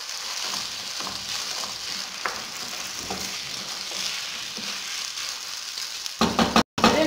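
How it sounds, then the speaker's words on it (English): White coconut rice being stirred in a pot, a continuous soft sizzling hiss with faint scraping of the spoon, close and steady, ending with a few louder knocks against the pot. "Then I will keep on stirring it. I will stir it nicely."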